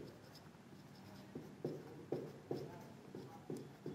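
Pen writing on paper during a Bengali-language class 10 maths lesson on circles, heard as a close, steady scratching with distinct stroke taps landing about every half second, with no talking.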